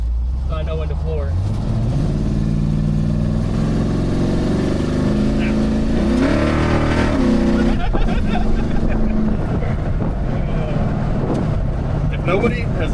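The nitrous-fed engine of a 40-plus-year-old car revs hard at full throttle, a loud rising roar that climbs in pitch and holds, while people talk over it.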